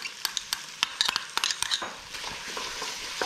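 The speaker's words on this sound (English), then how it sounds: "I'm just gonna add that and stir it up nicely" Ginger garlic paste being stirred into sautéed onions and potatoes in a hot pan, a soft sizzle under quick metallic spoon taps and scrapes, close and brief.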